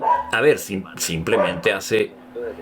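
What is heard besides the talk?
dog barking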